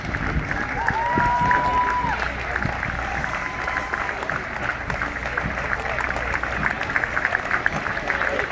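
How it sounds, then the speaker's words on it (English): A Veterans Day parade crowd in Aberdeen, North Carolina applauds passing veterans: sustained, dense clapping from many people, fairly loud and continuous, with a voice speaking over it early on. "Please give a round of applause and say a heartfelt thank you for your service"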